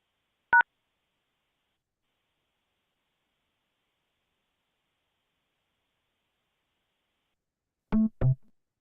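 Isolated telephone keypad dialing tones: a single short beep early on, then a long silence, then two quick beeps close together near the end, clear and alone.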